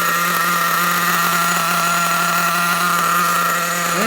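A Losi 8IGHT nitro RC engine screams at high RPM, a loud, close, sustained buzzing whine that holds steady with only slight waver in pitch.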